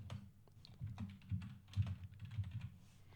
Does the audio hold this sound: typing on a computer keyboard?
yes